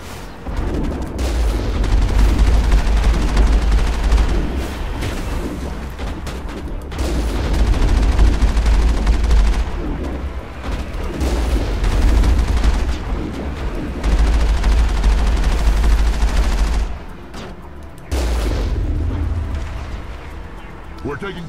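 Heavy cannon fire from the Mako vehicle in the video game Mass Effect, with repeated booming blasts and explosions rolling through a loud, dense battle mix, while a person talks over much of it.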